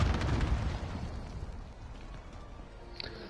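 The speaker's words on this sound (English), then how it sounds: "Got somebody on a kill streak on an airstrike" Airstrike explosion in a PS4 shooter game, a heavy low boom that rolls and decays over a few seconds, loud and close, with no talking.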